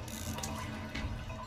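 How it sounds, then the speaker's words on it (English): Tap water running in the video game What Remains of Edith Finch, a steady, close rushing flow that holds at an even level throughout. "it looks like we're turning the water back on"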